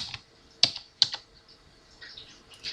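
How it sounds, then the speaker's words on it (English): Light keystrokes tap on a computer keyboard as a font name is entered: a few isolated clicks and short bursts, close and clear, with no talking. "So I'm going to type that in my box."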